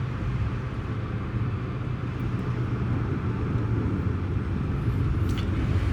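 Cabin of an all-electric taxi on the move: a steady low road rumble and tire roar, with no engine note, constant and fairly loud for the whole stretch, with no talking.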